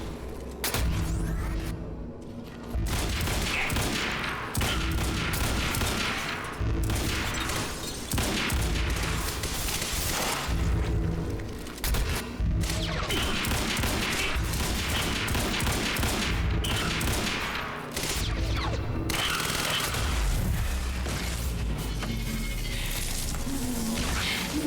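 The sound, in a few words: rifle gunfire in the video game Quantum Break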